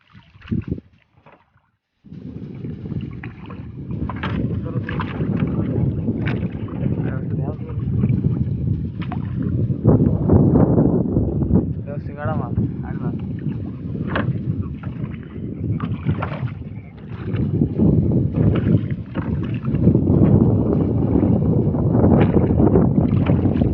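Strong morning wind buffets a fishing boat on open water, roaring continuously and loudly against the microphone after a brief quiet start, with someone talking over it.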